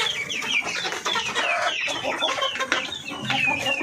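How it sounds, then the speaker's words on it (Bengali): Farm chickens cluck and squawk close by in a busy, overlapping chorus of short calls that runs the whole time with no talking. "ফার্মে মুরগিগুলো অনেক বড় বড় হয়েছে।"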